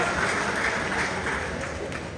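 An audience at a Tamil stage event applauds, a dense, steady wash of clapping that carries loudly throughout and eases slightly toward the end.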